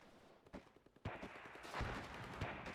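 In a WARNO real-time strategy battle, a tank fires at an enemy transport: scattered gunfire bursts and sharp reports, quiet and somewhat distant, building into a denser volley of shots.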